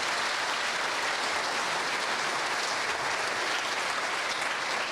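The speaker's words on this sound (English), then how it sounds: "I just wanted to give them a round of applause for all the time they had" Steady, dense applause fills a hall as a hometown audience honours former coaches, the clapping even and sustained from start to finish with no voices over it.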